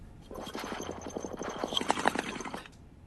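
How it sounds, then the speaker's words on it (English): A quick burst of bubbling water in a bong, rapid close pops in a steady run for about two seconds, then fading out. "That is the sound of a bong"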